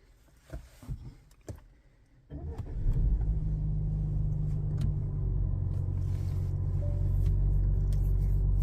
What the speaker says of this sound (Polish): Uruchomimy pojazd.